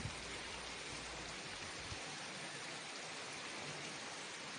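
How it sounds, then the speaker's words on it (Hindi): Rain falls outside a balcony as a steady, dense hiss of water, fairly faint and even throughout, with a low rumble fading out partway through and no voices. "ये देखिए कितना बुरा मौसम है और बारिश हो रही है डेफिनेटली।"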